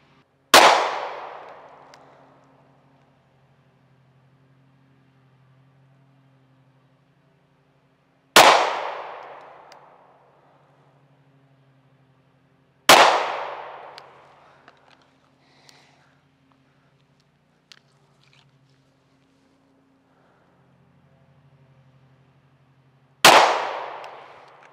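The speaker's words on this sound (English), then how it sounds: "All right, so there was 4 shots right there." Springfield Echelon pistol fired at a range target: four sharp, loud single shots spaced several seconds apart, each ringing out briefly, with quiet stretches and faint small handling noises in between.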